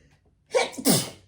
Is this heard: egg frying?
no